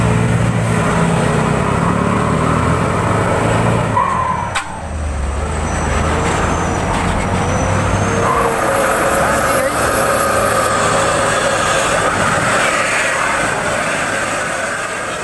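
A Hino Euro 4 truck hauling 35 tons of coal revs hard uphill, a loud, close, sustained diesel drone that dips briefly and then climbs again, with other engine noise in the background.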